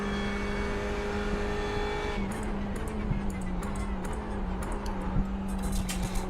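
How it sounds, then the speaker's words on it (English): GT race cars in a multiclass racing video game at Monza roar past one after another, engine notes rising and shifting over a steady droning engine hum, with brief tyre and mechanical clicks and no talk. "There's a group of faster cars bearing down on you."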